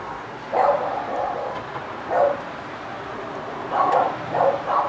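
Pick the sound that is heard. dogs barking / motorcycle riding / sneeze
dogs barking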